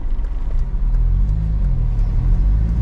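A car with a new Exedy Stage 1 clutch pulls away from a stop. Its engine gives a steady, close, low rumble that rises slightly as it moves off, with no talking.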